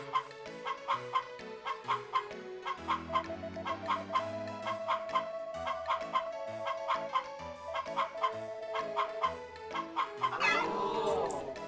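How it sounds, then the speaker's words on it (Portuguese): Chicken in the Harvest Moon: Back to Nature chicken festival game letting out repeated squawks and clucks over bouncy looping game music, with a louder, harsher cry breaking out near the end. "eu aperto o X para ela dar um grito que vai assustar a galinha adversária"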